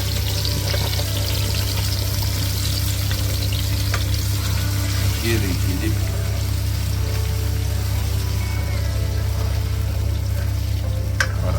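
Stinging nettle (kandali) paste fries in a pan with browned garlic and chili, giving a constant close sizzle over a low steady hum, with a brief remark from a speaker.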